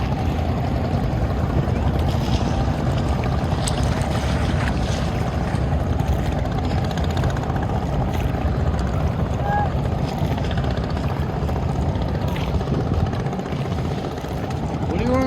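Trawler boat engines on the Buriganga river at night, a continuous low droning chug close by, with people talking over it throughout.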